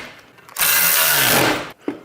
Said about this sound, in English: We're going to grab our 9/16 ratchet and our wrench.